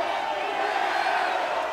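At an NWA Mexico women's title match, a wrestling crowd cheers and whoops after a kick-out, a sustained wash of arena noise that stays full and even throughout.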